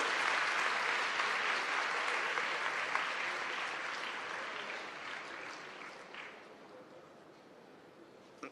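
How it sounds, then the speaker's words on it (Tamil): An audience at a women's Christian college ceremony honoring Chief Minister Stalin claps steadily, dense applause that gradually thins and fades toward the end. "ஒரு பெரிய கைதட்டு கொடுத்து அவரை பாராட்டுவோம்"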